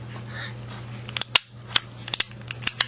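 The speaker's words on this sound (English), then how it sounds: "That is the sound of a Colt Detective Special 38 Snubby." Several sharp metallic clicks of a Colt Detective Special .38 snub-nose revolver's mechanism, the hammer and cylinder snapping in an irregular sequence over a steady low hum.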